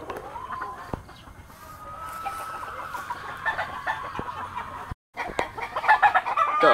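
Fighting rooster of a gamefowl breed clucking steadily at close range, a run of short repeated calls that pauses briefly near the end before the calls return louder.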